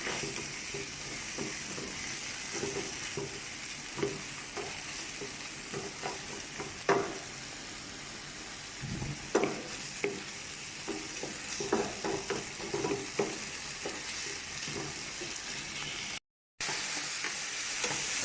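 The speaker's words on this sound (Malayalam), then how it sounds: "നല്ലവണ്ണം ഇളക്കി കൊടുക്കുക" Diced potato, onion and green chili fry in oil in a pan with a constant sizzle, while a spoon stirs them in repeated scraping strokes. The sound stays close, and one brief dropout occurs near the end.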